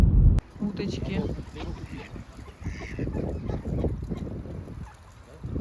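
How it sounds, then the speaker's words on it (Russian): Ducks honk and quack outdoors at moderate distance by a partly frozen river in Ukhta, Komi Republic, in November, a scattered flock calling under a steady wind-like background, with a person's voice mixed in. "Уточки."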